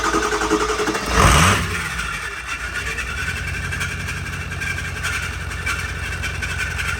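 Starter on a 6.0 Powerstroke Ford Excursion turns the diesel over without a start. A short loud burst of cranking is followed by a continuous mechanical drone and hum, close up.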